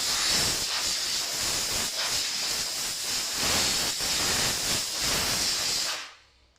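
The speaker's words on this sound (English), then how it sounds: "I like to use compressed air" Compressed air blowing steadily onto a BMW E36 M3 car panel being cleaned before painting, a loud close continuous hiss that pulses slightly in strength for about six seconds, then stops abruptly.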